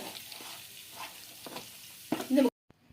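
A semiya barfi mixture with vanilla essence is stirred in a pan, making a soft sizzle and scraping spoon strokes that swell into a louder burst before the sound cuts off abruptly.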